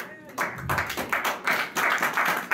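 A church congregation claps together in praise, a run of rhythmic, fairly close hand claps with some voices mixed in.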